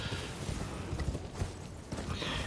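Horse hooves clopping in the video game Elden Ring, a steady run of close hoofbeats over a dense game soundscape, with no talking.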